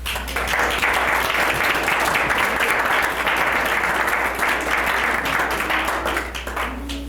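Audience at the Jackson Hole Hootenanny breaks into loud, sustained applause to welcome a performer, a dense wash of clapping that holds steady for several seconds before easing slightly at the end.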